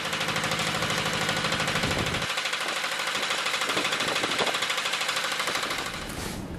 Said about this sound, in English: I left it running there for about 10 minutes, trying to run the engine in a little bit.